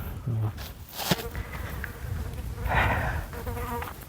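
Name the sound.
flies buzzing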